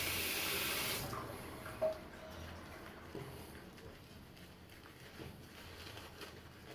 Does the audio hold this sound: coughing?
no